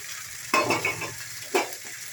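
Papaya ghonto with rice and potato sautéing in a pan, a low steady sizzle with two distinct scraping stirs of a spatula, close and clear.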